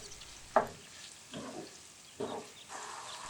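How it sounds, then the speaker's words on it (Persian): Small diced meat hits a hot frying pan with onions, sizzling softly, with a few louder spits and stirs near the pan in a quiet kitchen. "200 گرم گوشت تیکه ریز رو میریزیم تو مایتابه و با پیازا تفت میدیم"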